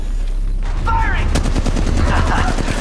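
Weapons fire in the mobile shooter Apex Legends, with rapid, loud, close bursts of automatic gunfire over a steady game soundtrack, preceded by a brief voice line.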